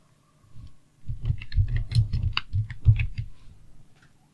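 A steady run of soft, muffled keystrokes on a computer keyboard as an email address is typed, close and rhythmic for about three seconds, then trailing off, with no talking.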